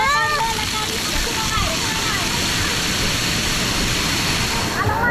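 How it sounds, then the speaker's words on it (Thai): Water at a Bangkok water park rushes and splashes in a steady, loud roar, while people talk and call out over it throughout. "โอ้โหน้ำกระเด็น"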